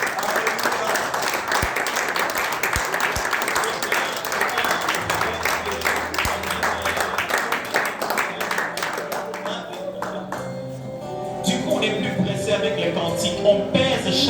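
An Easter service congregation applauds and cheers in a big, sustained wave of clapping that fills the room, with a few sharp thumps early on, then fades into quieter crowd murmur and scattered sounds toward the end.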